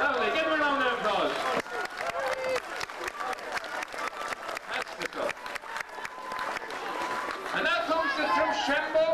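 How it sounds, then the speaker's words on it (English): A street crowd at a St Patrick's Day parade in Carrick on Shannon claps for a gymnastics club, irregular applause swelling and fading as someone talks over a loudspeaker at the start and end. "Give him a round of applause"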